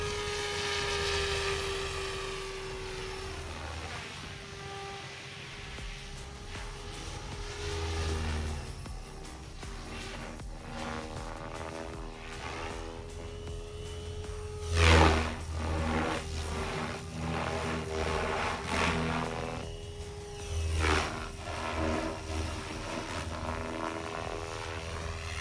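An RC helicopter, an XL Power Specter fitted with a three-blade rotor head and tail conversion, whirs steadily as its rotor spools up toward higher RPM, a close, continuous droning hum with brief louder surges.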